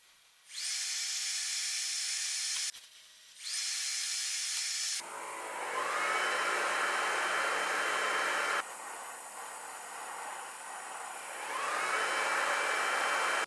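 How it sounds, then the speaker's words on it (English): Welding torque wrench adapters onto a steel bar: several bursts of loud, crackling hiss, two short ones followed by longer sustained runs with brief pauses between, no talking. "So now all I've got to do is weld these to the bar exactly 16 inches apart."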